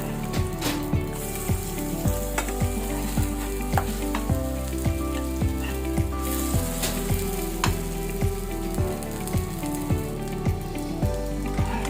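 A savory pancake fries in a small amount of oil in a pan, giving a loud, continuous sizzle with rhythmic taps and scrapes of a utensil at regular intervals, no voices.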